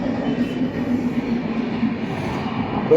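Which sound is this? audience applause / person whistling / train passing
train passing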